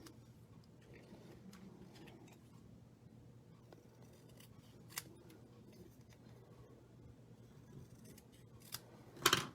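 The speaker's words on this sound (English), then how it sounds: "So let's just do a little trim." Scissors trimming paper for a stamped card, faint quiet snipping close by that ends in a sharper cut.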